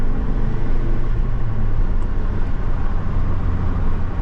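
A 1989 Ford Probe Turbo GT heard from inside while driving, with a steady, loud low engine rumble and road noise holding constant throughout, no talking.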